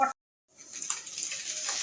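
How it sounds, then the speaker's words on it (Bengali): Fish frying in a pan gives a steady, bright sizzle that starts after a brief pause and builds gently, with a faint hiss and small crackles throughout. "এখন আমি মাছ ভাজছি"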